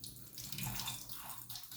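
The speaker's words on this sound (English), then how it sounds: "let me give it a little rinse off" Knife rinsed under a running kitchen tap, a continuous close splash of water shifting in tone as the blade moves through the stream.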